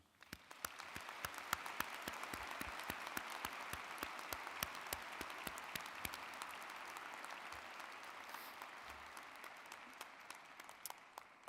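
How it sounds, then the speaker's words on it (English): A commencement crowd at App State gives the Chancellor a long round of applause, heard faint and somewhat distant, with a steady dense wash of clapping and sharper individual claps standing out throughout. "I would ask that you join me in a long applause for our dear Chancellor"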